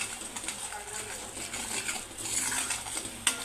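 Garam masala stirred into a soybean vegetable curry in a pan, soft scraping and clinking of a spoon against metal, quiet and irregular, ending with a sharper tap.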